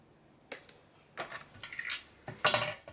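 Scissors snipping excess paper off a scrapbook moodboard, a few short crisp cuts and rustles spaced apart, close and quiet.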